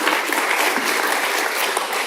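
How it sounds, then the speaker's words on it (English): Brief burst of audience applause at a live talk, dense steady clapping from a crowd filling the whole moment without any voices on top. "Can I have an applause for Arthur, please?"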